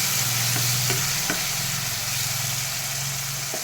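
Green chillies and tomato fry in a pan with a steady, close sizzle and occasional stirring clicks, heard alone with no voices.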